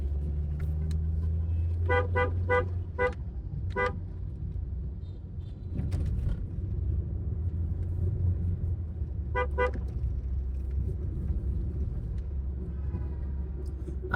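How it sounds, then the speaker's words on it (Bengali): Traffic jam on a Dhaka street near a bridge, with a low steady rumble of idling engines and several short car horn toots in bursts, some clustered in quick repeats, near and far. "পুরা রাস্তা এখন জ্যাম পেঁচে দেব"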